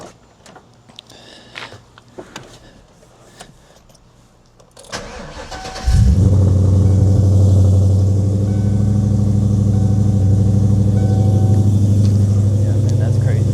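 A Coyote-swapped car is started in a garage: after quiet shuffling and clicks, the starter cranks and the engine fires near the six-second mark, then settles into a loud, deep, steady idle close by.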